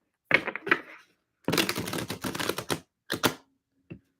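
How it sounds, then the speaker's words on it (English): Tarot cards are shuffled in quick bursts of riffling and tapping, close and crisp, separated by short silences, ending with a single soft tap. "Do one more shuffle."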